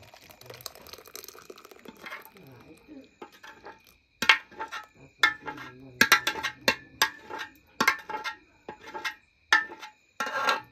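Close metallic clinks and scrapes of a spoon against a metal pot while thick basundi, a milk sweet, is transferred in, with a soft wet stirring sound early on.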